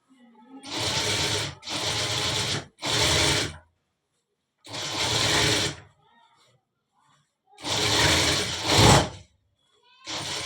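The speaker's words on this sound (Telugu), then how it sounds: "Double stitching వేసేయాలన్నమాట." A sewing machine double-stitches a full-sleeve shirt in several loud, steady runs of a second or two each, separated by brief quiet pauses, with no voices over it.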